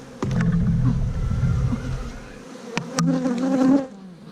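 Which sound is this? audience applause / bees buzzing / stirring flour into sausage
bees buzzing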